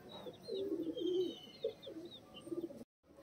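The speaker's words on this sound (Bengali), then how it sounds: "এগুলো এই যে নটটা আমার বাড়িরই পায়রা, মেন ধাড়ির থেকে বেরিয়েছে।" Home-bred Giribaz pigeons in a loft coo repeatedly in low rolling bursts, close by, with faint higher chirps from other birds behind them.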